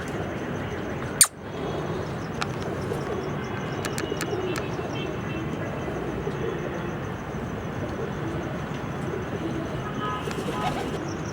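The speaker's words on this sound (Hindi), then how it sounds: "ये भी फिरोजपुरी ही कबूतर दिखा रहा हूँ।" Ferozpuri pigeons coo softly and continuously under a steady background wash, with a sharp click early on and scattered short chirps.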